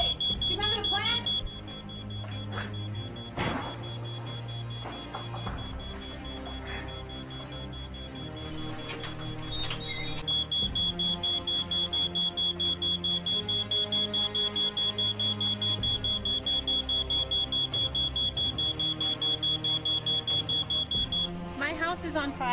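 A household smoke alarm shrills with a steady, piercing high-pitched tone, continuous and loud for most of the stretch, while people speak over it in a home where chicken was being cooked.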